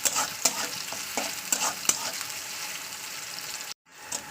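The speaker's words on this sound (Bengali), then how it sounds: "পেঁয়াজটা আমার একটু লালে লালে হয়ে গেলে আমি দিয়ে দেবো আলুটাকে তো একটু ভাজা করতে হবে পেঁয়াজটাকে" Chopped onion fries in hot oil with a steady close sizzle, broken by sharp stirring scrapes and taps, then cut off abruptly near the end.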